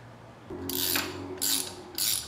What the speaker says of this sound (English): Kind of helps to have one that's ratcheting, but not entirely necessary.